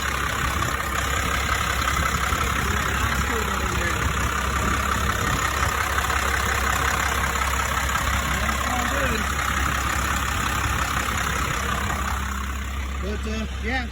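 A diesel tow rig truck fitted with a new turbo idles nearby with a steady, deep rumble, while someone talks over the engine throughout.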